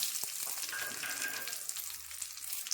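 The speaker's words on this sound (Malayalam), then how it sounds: "കടുവ് പൊട്ടിക്കഴിഞ്ഞ് നമ്മൾ വറ്റൽമുളക് ഇട്ടു" Dried red chillies fry in hot oil just after mustard seeds have popped, giving a soft, continuous crackling sizzle with a few faint pops and light stirring, fairly quiet and close.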